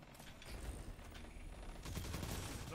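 Sniper rifle gunfire in Destiny 2 PvP, a Gambit Prime sniper rifle, comes as a dense, loud barrage of shots and blasts throughout, with a stronger burst near the end.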